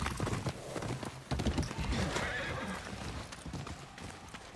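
Horse hooves clip-clopping in a video game, rhythmic steps with a whinny mixed in, fairly close and moderately loud, without talk.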